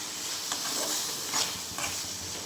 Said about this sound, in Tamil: அப்படியே சுருள அந்த தக்காளி வெங்காயம் எல்லாம் வதங்கி வெள்ளைப்பூடு நல்லா வதங்கும்